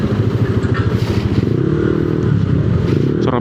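Several Yamaha NMAX scooters idle and rev together at a charity ride gathering, a steady close engine drone with rattling clatter throughout, no talk over it.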